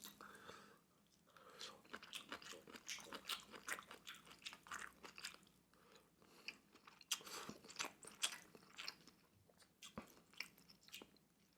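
Close, crisp crunching and biting of kimchi during a spicy Korean army base stew (budae jjigae) mukbang, a steady run of wet, irregular chews with brief voice sounds mixed in.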